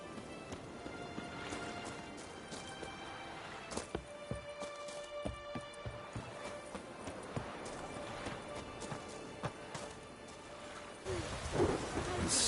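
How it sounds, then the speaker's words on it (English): Thunderstorm with rain in the video game The Witcher 3: steady rainfall under low thunder, with horse hooves clip-clopping through it and a heavier rumble near the end, no talk. "Storm, damn it."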